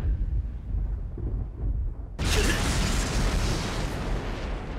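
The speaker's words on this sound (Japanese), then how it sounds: "雷の呼吸、一の方。" Zenitsu's Thunder Breathing attack in the Demon Slayer Hinokami Chronicles game on PS5/PS4: a low rumbling build-up, then a sudden loud, crackling thunderous blast that roars on at full strength.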